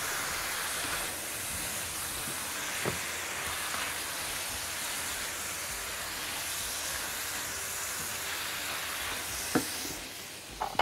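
Garlic cloves fry in hot oil with a steady, dense sizzle throughout, broken by a few faint clinks of a utensil.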